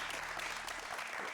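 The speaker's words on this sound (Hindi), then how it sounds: "बिल्कुल अली सिकंदर के लिए तालियां." A brief burst of studio audience applause on a talk show, dense and even in loudness, with a faint low hum underneath.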